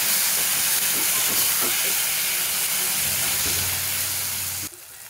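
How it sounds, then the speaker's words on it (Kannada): Onions fried to golden with a medium tomato, softening in hot oil for a chicken pepper fry, give a steady loud hiss and sizzle throughout that cuts off abruptly near the end. "ಸ್ವಲ್ಪ ಮೆತ್ತಗಾಗುವವರೆಗೂ ಫ್ರೈ ಮಾಡ್ಕೊಳ್ಳಿ"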